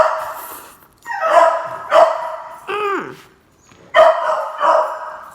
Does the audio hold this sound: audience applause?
no